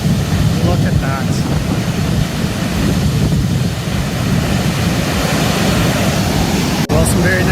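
Broad roaring rush of a waterfall in Khao Yai National Park, Thailand, loud and continuous up close, with faint voices briefly heard over it.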